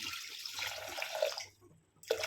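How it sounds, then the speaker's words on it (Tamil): A little water is poured into a cooking pot holding garlic and tomato for a horse gram kulambu, a brief close trickle that stops and then splashes again. "கொஞ்சமாக தண்ணி விட்டுக்கலாம்"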